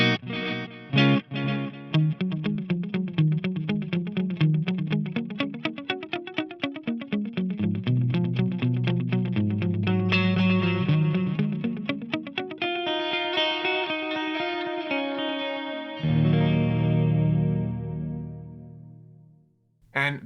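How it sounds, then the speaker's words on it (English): Electric guitar played through a Fractal Audio FM3 dual delay, a flowing line with each note echoing in repeats, ending with a sustained chord that rings out and fades. "This first one is just a simple dual delay."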